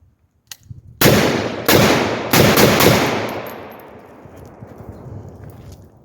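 Four loud, close rifle shots from an AR-47 fitted with a Deer Creek Stealth Blast muzzle device, fired outdoors as the sun goes down. The shots come in quick succession, each followed by a long echoing decay.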